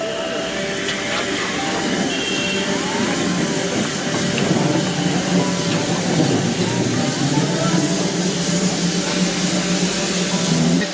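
Small Darjeeling Himalayan Railway train in the Himalayan mountains, a continuous rumbling roll with rising clatter as it draws nearer, heard alone without talk.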